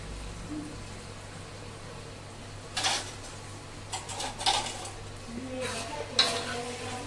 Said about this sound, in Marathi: हे बघा, पनीर छान तळून घेऊया.